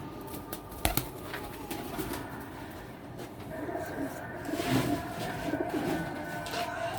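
Tumbler pigeons coo softly at close range with bursts of wing flapping, including a sharp flutter near the start, against light background noise.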